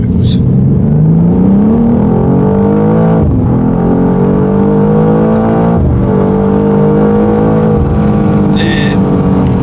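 A BMW M2 G87 accelerates hard in second gear, its loud engine note climbing steadily with brief dips as it pulls, heard from close by inside the car.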